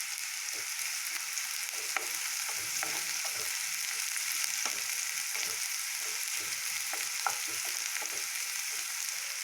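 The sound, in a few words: chopped onions frying in hot oil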